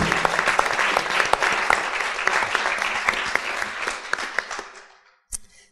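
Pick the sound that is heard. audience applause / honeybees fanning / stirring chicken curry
audience applause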